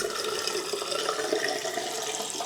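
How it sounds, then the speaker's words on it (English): Hot water gushing steadily from a bathroom sink tap, a continuous close-up splashing rush with no talk. "we are ready to turn the water on"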